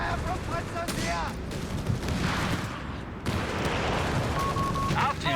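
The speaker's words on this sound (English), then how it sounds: "Taking fire from Panzers here!" Gunfire from a Company of Heroes 3 match, Afrika Korps against US Forces, with Panzers firing: dense crackling shots and bursts run continuously alongside game effects and a voice talking over them.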